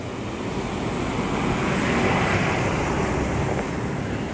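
Fast-flowing water from the overflowing Tilari dam in the Konkan hills during heavy monsoon rain rushes past in a dense, steady roar, loud and continuous, with wind buffeting the microphone and no voices.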